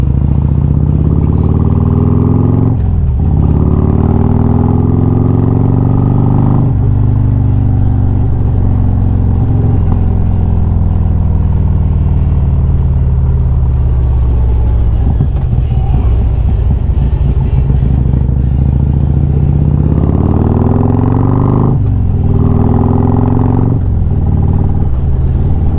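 Motorcycle engine running steadily while riding near a skydiving airfield in Zephyrhills, a loud continuous low drone with slight shifts in pitch and some clatter, heard close throughout.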